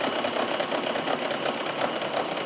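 A horizontal milling machine slowly power-feeds a cutter across a cast iron straight edge, giving a steady mechanical whir with a faint repeating pulse, continuous and fairly close with no talking.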